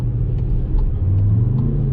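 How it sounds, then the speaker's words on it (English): A 2019 Škoda Kodiaq RS SUV rumbles deeply from its exhaust after sport mode is engaged, as a steady close engine drone with a slight swell in pitch partway through. "If I press to sport, you can hear the exhaust changing."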